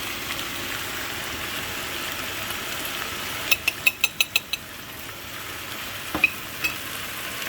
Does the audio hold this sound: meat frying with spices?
yes